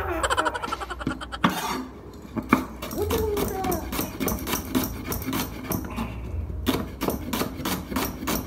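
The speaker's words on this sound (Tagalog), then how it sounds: "ang una ko munang gagahitin is itong sibuyas" An onion being sliced with a knife on a board, a rapid series of sharp, close chopping taps in quick rhythm, with short pauses and a few scraping sounds between bursts.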